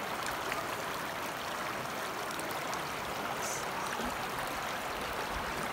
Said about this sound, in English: Mountain stream.